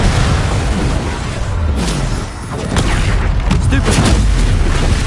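Confringo blasting spells burst in a Hogwarts Legacy battle: repeated loud booms and sharp pops, close and heavy, with a brief lull midway and voices mixed into the combat.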